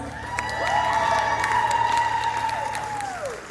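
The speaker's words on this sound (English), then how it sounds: "Can I have another round of applause?" Applause and cheering from the crowd at a cosplay masquerade, a continuous wash of clapping with scattered whoops, while a sustained tone rises and falls on top of it.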